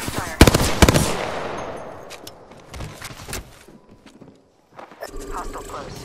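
Rapid automatic gunfire from Apex Legends, a loud opening burst followed by scattered, fading shots and a brief lull before more shooting, with a voice in the game mix.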